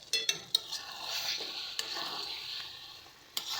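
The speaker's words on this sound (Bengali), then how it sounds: "গরম মশলাটা দিয়ে হালকাভাবে এটাকে একটু নাড়িয়ে নিচ্ছি।" Chicken curry with garam masala powder being gently stirred, a dense close sizzle with a few quick scrapes and clinks of a spoon against the pot; no talking.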